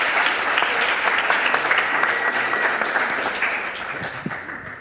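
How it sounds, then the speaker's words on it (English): Sustained applause from a conference audience at the close of a scientific session, dense and steady throughout at moderate loudness, with no speech over it. "Can I have a round of applause to everyone for the entire session?"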